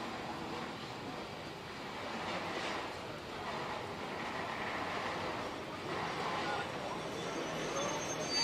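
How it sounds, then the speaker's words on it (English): Diesel multiple unit running as empty stock on a heritage railway at Winchcombe, heard as a steady rumble of train movement at moderate distance, with people talking in the background throughout. "The DMU is empty stock, moving out of the way for the time being."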